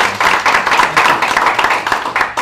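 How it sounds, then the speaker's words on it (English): An audience applauds Mark Wischmeyer after his talk on U.S. health care reform: dense, steady clapping from many hands fills the room for a couple of seconds and carries on evenly. "join me in giving a round of applause to Mark"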